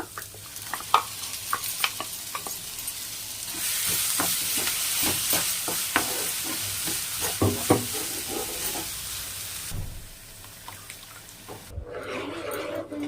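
Sautéed onion and tomato paste stirred in a pan sizzles close by, with repeated spoon scrapes and clinks over a steady frying hiss that rises midway and drops off near the end, no voices.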